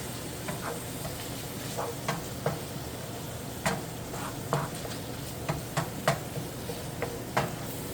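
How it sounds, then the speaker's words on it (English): Chopped onions fry in a pan for beef enchiladas with a soft, continuous sizzle. Scattered clicks and taps of a utensil against the pan come through at an even level, with no talking. "Those onions are cooking around."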